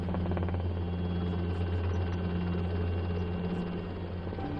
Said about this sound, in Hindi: कुछ ही मिनट में हेलीकॉप्टर उस इलाके में पहुंच गया